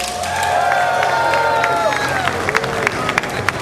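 A large crowd cheers and claps in a big hall at a Warcraft III esports event at BlizzCon 2008, a sustained roar with scattered whoops and applause, no clear speech on top.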